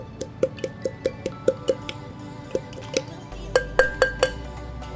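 Basil being muddled in a cocktail glass, a steady series of sharp glassy clinks and taps from the muddler striking the glass, close and evenly spaced, quickening slightly near the end.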